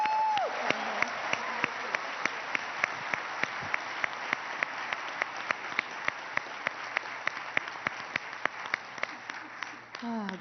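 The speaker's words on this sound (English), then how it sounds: "If you would clap your hands for the Reverend Dr." Audience applause at an evening inaugural gathering, a dense, steady wash of many hands clapping that carries on loudly throughout, with a few sharper individual claps standing out near the front.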